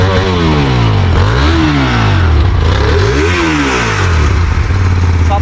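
A Hyosung GT250R V-twin motorcycle engine revs up and down several times close by, its throaty note rising and falling in swooping sweeps over a steady idle rumble, loud and alone.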